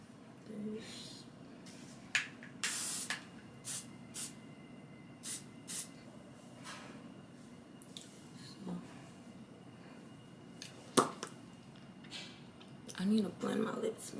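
A few short bursts of spray from a bottle, close by, spaced irregularly among quiet rustling and faint breathy sounds.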